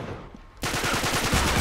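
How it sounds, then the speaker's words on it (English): In Uncharted 3: Drake's Deception, a quiet moment gives way to a sudden loud burst of rapid gunshots that continues densely to the end, close and harsh. "Who's shooting me now?"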